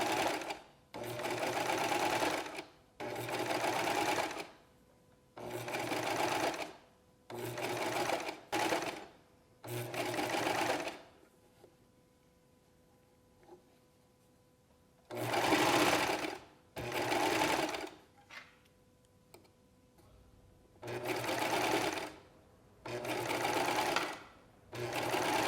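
A serger stitching a scalloped rolled hem with a satin finish, running in repeated bursts of rapid whirring stitching separated by quiet pauses, close and loud with no talking.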